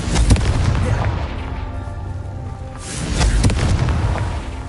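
Booming blasts from the Confringo fire spell in the video game Hogwarts Legacy, two heavy explosive bursts several seconds apart with rumbling tails, under a voice.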